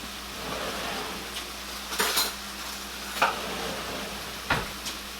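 Carrots and broccoli going into a hot pan for teriyaki turkey, giving a steady low sizzle broken by a few sharp clanks and stirring scrapes of utensils against the pan, close by with no talk.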